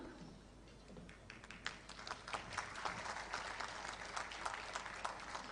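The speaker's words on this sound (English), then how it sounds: "A big round of applause as we embark on this journey" A conference audience applauds at an event on Sindh's flood reconstruction, many hands clapping in a steady, dense patter that swells slightly and continues throughout, heard from some distance at low volume.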